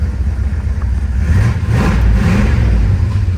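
A 1973 Plymouth Road Runner engine idles close by, then revs up with a rising, rumbling roar before settling back down.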